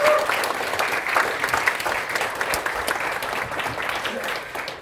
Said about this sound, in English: How about giving the demonstrators a round of applause, ladies and gentlemen?